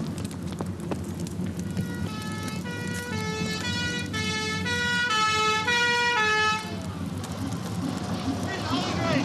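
A fire engine siren at a burning building wails in rising and falling tones, steady and fairly loud, over a low rumble of engines and crowd noise.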